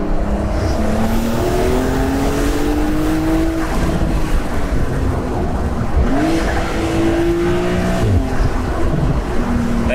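Turbocharged engine of a Porsche 911 Carrera S Cabriolet, driven top-down on a country road, climbing loud and close through long rising revs toward 7000 rpm with quick drops at shifts, a continuous roar throughout.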